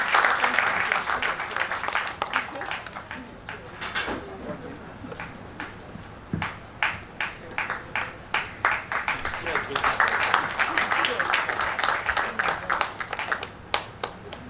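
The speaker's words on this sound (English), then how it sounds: "Ladies and gentlemen, isn't this beautiful? A round of applause." An audience at an investiture ceremony of the ICSAN Lagos State Chapter in Lagos gives a round of applause, a moderately distant wash of many hands, with individual claps growing clearer midway and continuing steadily.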